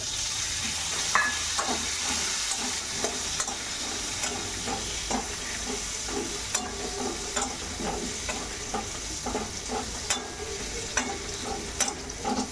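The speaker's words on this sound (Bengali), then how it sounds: "সেই পেঁয়াজটা দিয়ে দেবো এর মধ্যে" Sliced onions fry in a pan for egg do-pyaza, giving a steady sizzle with frequent scraping clicks of a stirring spatula, close and moderately loud throughout.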